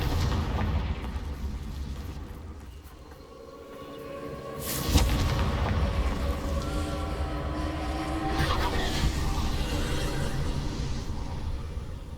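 Casting the Confringo spell in Hogwarts Legacy sets off a deep rumbling fiery blast, a sharp burst mid-clip followed by sustained crackling roar and another swell, over continuous low game ambience.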